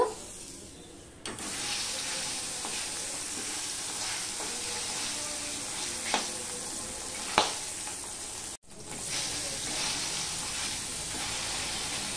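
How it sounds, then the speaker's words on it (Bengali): Bata fish sizzles steadily in hot oil, a continuous close hiss with a few sharp pops, briefly cutting out near the end before resuming. "এবার একে একে আমি বাটা মাছগুলো ভেজে নেব।"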